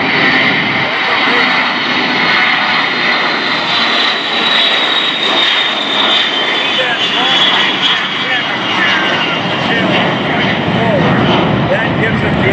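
A Boeing E-3 Sentry with Pratt & Whitney jet engines makes a flyby at an air show, a loud sustained engine roar, with a person speaking over it.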